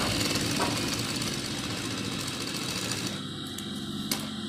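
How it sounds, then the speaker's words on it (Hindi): Sewing machine stitching a kurta with black bobbin thread and shiny polyester top thread, a continuous close rattling hum that runs the whole time at moderate loudness and thins slightly near the end, with no talking. "तो ये सबसे पहले हमने पैर की सिलाई लगाई है।"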